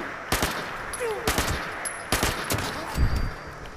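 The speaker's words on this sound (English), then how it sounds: "How dare you shoot me in the back?" Bursts of automatic gunfire from Fallout 76 crack out in a rapid, uneven series of loud shots over several seconds, with brief gaps between volleys against steady game background noise.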